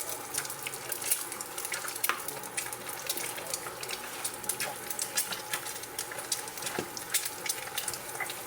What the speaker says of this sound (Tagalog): mainit na yung ating mantika. Unahin natin ka barangay ang egg.